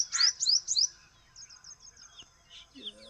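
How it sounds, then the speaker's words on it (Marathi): Birds chirp in the early morning at a farm field: a quick burst of three bright, close tweets, then softer, scattered calls further off. "पक्ष्यांचा किलबिलाट चालू आहे."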